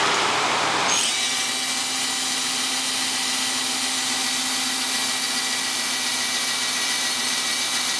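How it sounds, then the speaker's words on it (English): Power drill boring into glass borscht jars: a steady, loud whining drone with a constant high-pitched tone, starting abruptly after a brief lead-in and running continuously to the end. "it's not a Dremel, it's a drill."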